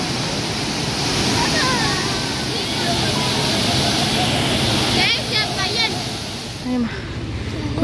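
The steady, loud roar of Thirparappu waterfall in Tamil Nadu fills the scene up close and never lets up, with people talking over the rushing water.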